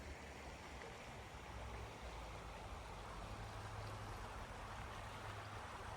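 River rapids at Triphammer along the Montour Trail, a steady broadband rushing wash of water heard from a distance, faint and unbroken with low rumble underneath, no voices.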